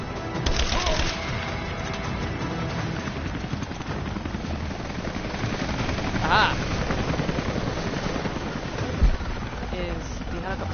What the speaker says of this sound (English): Is the helicopter going to start shooting at me now?